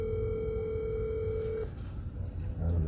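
An apartment building intercom phone ringing with no answer: a steady electronic ring tone that cuts off, followed by faint low background noise.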